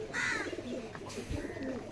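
Domestic pigeons cooing at a busy Katakhali village market in Bangladesh where birds are sold, a close pair of soft calls over a steady crowd murmur.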